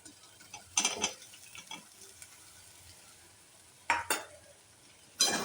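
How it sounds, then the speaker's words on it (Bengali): Paneer being stirred into a frying potato and pea masala, giving soft scraping and clinking strokes over a steady low sizzle, in three clusters near the start, middle and end, with no talk. "পনিরটা দিয়ে একটু নেড়ে চেড়ে"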